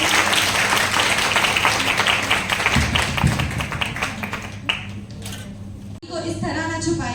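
Audience applause at a cultural fest for bank PO trainees, a dense, steady wash of many hands clapping that carries on for several seconds, with the crowd's murmur and a few voices mixed in beneath it.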